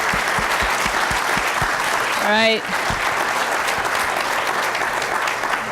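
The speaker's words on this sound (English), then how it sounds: "if you could give them a big round of applause" An audience at an organization's kickoff event claps in a sustained wash of applause that runs through the whole stretch. A voice speaks briefly over the clapping.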